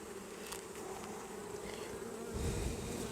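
Honeybees buzz steadily around an opened beehive frame, a close, continuous hum that swells slightly toward the end, with no voices.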